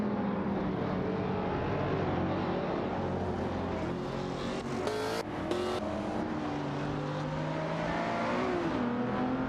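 Engine noise from a video game race where a McLaren 540C and an Aston Martin Vantage GT12 battle closely, a steady dense roar with rising and falling engine tones and layered cars passing, loud and continuous without speech.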